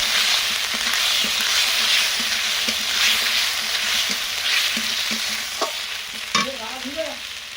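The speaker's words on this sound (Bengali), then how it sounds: "পেঁয়াজ বাটা দিয়ে দেবো, জিরে বাটা, আদা বাটা, ধনে বাটা। ভালো করে মশলাটা ভেজে নেব।" A spice paste of ground onion, cumin, ginger and coriander fries steadily in oil, with a continuous close sizzle and scattered scrapes of a spoon stirring through it, with no voices.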